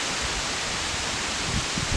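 Wind blowing outdoors with rustling leaves during outdoor dog training, a dense, steady hiss of gusty air and foliage noise, fairly loud and continuous, with no voices.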